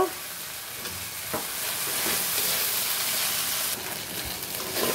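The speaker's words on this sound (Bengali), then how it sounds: "চিকন করে আলু মশলার সাথে আলুটা কষাইয়ে নিব" Sliced potatoes frying with spices and salt in a pan, a steady close sizzle lasting throughout with occasional stirring scrapes, for a half-bhuna chital fish dish.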